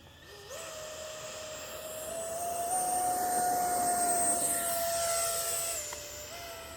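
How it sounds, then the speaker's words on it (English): Electric model F9F-5 jet spooling up on an abandoned airfield runway for takeoff, a loud rising whine that steps up in pitch, holds steady and swells in volume, then eases slightly as it moves away. "the F9f5 is lined up on the end of the runway. Motor is armed, and we are clear for takeoff."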